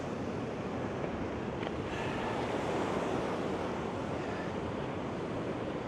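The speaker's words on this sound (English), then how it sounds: "This creek's really roaring down through here." Creek water roaring near a waterfall, a loud, dense and unbroken rush that holds steady throughout, close to the microphone.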